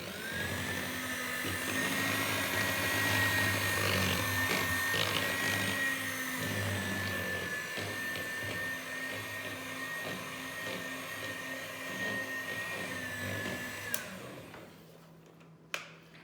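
An electric mixer whirs steadily as it blends muffin batter with oil for Christmas muffins, a loud, even motor whine that runs for most of the time and then cuts off, leaving a couple of faint knocks.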